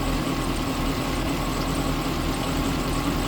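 Steady, close Mercury boat engine idling and misfiring, a continuous broadband rumble with a faint uneven pulse and no voices over it.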